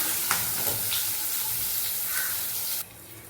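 Onions sautéing on a stove for chicken kurma, a dense, even hiss and sizzle filling the clip, with a faint stir or clink early on before the sound abruptly drops away near the end.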